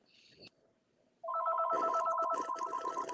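A telephone rings loudly in repeated electronic trills after a brief quiet moment, with faint talk beforehand, during a livestream discussion about swirling wine.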